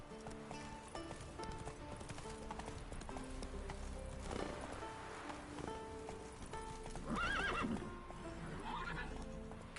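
A horse gallops with rhythmic clip-clop hooves in the video game The Witcher 3, neighing and whinnying over game music and ambience, with a faint voice briefly audible.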